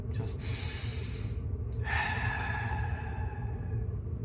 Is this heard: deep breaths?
yes